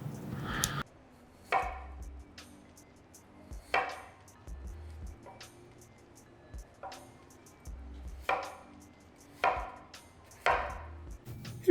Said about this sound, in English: I'm just chopping them up into bite-sized pieces